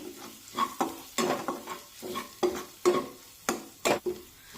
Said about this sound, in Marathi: मसाले तेलामध्ये छानपैकी परतून घ्यायचे, म्हणजे मग त्यांचा कच्चा वास राहणार नाही